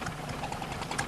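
A farm stationary engine with an unusual ignition system runs at the Great Dorset Steam Fair, making a faint, quick, even knocking and ticking beat like a small engine idling.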